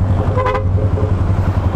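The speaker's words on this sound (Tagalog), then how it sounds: "Busina yan, Pia horn." A short double beep of a PIAA aftermarket car horn, close and clear, over a loud idling motor rumble.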